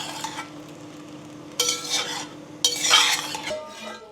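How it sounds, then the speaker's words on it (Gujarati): A spoon stirs khichdi in a cooking pot, giving scraping and clinking strokes in two or three short bursts over a soft sizzle, close and clear with no talking. "ખીચડીને ફરીવાર મિક્સ કરી દઈએ."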